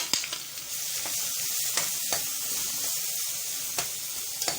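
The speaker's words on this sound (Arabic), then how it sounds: "حطيت بقى الليه تسيح اهي اللي انا هعمل فيها الباميه" Sheep tail fat melts in a pot with a continuous bright, crackling sizzle, dotted with sharper pops and spits, close and steady with no one talking.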